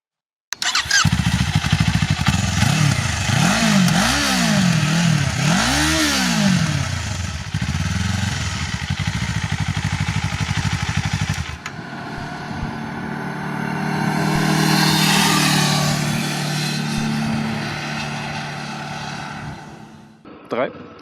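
A Kawasaki Eliminator 500 motorcycle engine roars up through repeated rising revs, loud and close, then fades into a steadier, more distant drone as the bike pulls away, with someone speaking over parts of it.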